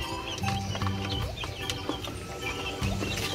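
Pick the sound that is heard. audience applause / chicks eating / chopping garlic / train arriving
chicks eating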